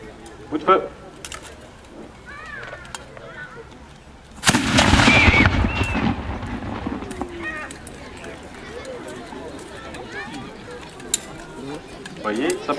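A small medieval cannon fires a single loud shot at a historical reenactment, a sharp blast with a long rumbling decay; birds and soft voices sit underneath before and after.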